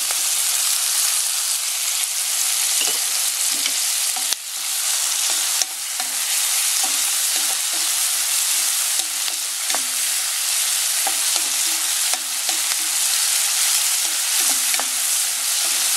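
Shrimp sautés loudly in a hot pan, a dense continuous sizzle close to the mic with frequent stirring scrapes and light knocks throughout.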